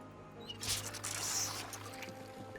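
Water being filled up in the survival game Project Zomboid, a short burst of pouring and trickling game sound effect rising and fading over a couple of seconds, fairly quiet against a faint steady background hum.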